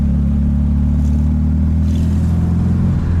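A 1965 Volkswagen Karmann Ghia engine pulling hard in too high a gear while driving, a loud, steady low droning rumble heard close from inside the car, with no talk.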